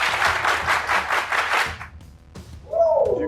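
A high school football team claps in rhythmic unison, a rapid burst of sharp claps lasting under two seconds, followed by quiet and a voice speaking.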